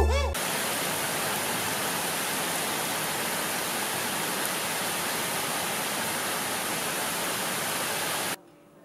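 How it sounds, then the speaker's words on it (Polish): Steady rain falls outdoors as a dense, even hiss that holds for about eight seconds and then cuts off abruptly. "Jest deszcz."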